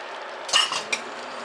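A spoon scrapes and clinks against a pot while skimming foam off homemade apple ginger jelly, with a few short, faint scrapes in quick succession and one final light tap, no talking.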